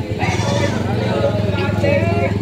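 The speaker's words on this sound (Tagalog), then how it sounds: "Bossing, magkano ang presyo ng kambing mo?" Goats bleat repeatedly at a livestock market in Padre Garcia, Batangas, their wavering cries loud and close over steady crowd chatter and background voices.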